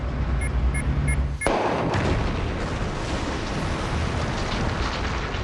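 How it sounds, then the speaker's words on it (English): A loud explosive blast goes off in a mega tunnel under construction in Kuala Lumpur, a sudden boom that then rumbles and roars on with dense debris noise, filling the clip to the end. "it took a whole day to prepare for that one blast"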